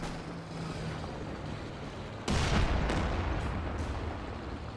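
An assault artillery barrage in Company of Heroes 2 during a 2v2 match, a steady rumbling battle din that jumps into a louder, heavy blast, followed by further booming impacts.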